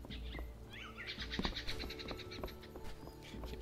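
Birds chirp and call in the fantasy role-playing game Two Worlds 2, a busy layer of quick twittering over a low, steady ambient rumble with scattered soft clicks, no talk.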